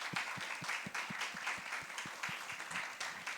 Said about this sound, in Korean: 우리의 중심을 담아서 하나님께 박수로 또 영광을 돌립시다.